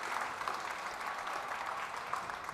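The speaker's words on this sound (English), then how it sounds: "Another round of applause for our Eastern Conference." Audience at a European League of Football season kickoff press conference applauding, a steady, even wash of many hands clapping at moderate distance without voices.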